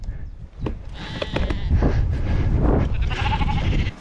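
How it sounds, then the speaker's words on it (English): Several friendly sheep bleat loudly and close by along a rural bikepacking route, repeated wavering calls over a steady rumble of outdoor noise. "Friendliest sheep I've ever met."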